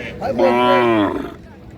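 A single long moo from a Deshal or Sahiwal cow at a busy cattle market, loud and close, lasting about a second.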